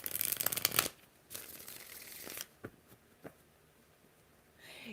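Tarot cards are shuffled by hand in a quick riffling burst, then a few soft, separate taps and slides follow at close range with no talking.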